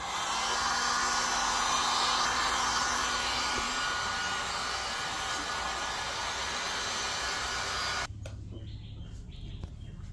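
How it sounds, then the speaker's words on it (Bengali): A dryer blows over freshly screen-printed t-shirt ink with a loud, steady rushing roar for about eight seconds, then cuts off and leaves a faint low hum. "এটা হচ্ছে ড্রায়ার, এটা দিয়ে শুকাইতে হবে"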